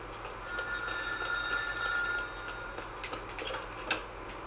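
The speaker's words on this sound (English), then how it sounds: "We answer the phone." In The Godfather 2 video game, a telephone rings, a steady bell-like tone with ticking clicks, moderately loud and continuous over a few seconds, followed by a few brief knocks near the end.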